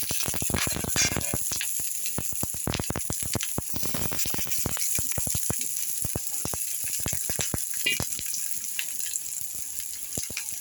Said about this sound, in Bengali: এখন আমি তেলের ভেতরে পেঁয়াজগুলো দিয়ে দেবো।